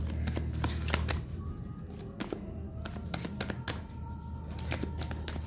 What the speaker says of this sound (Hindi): जानते हैं यहाँ पे एक बार और शफल कर ले।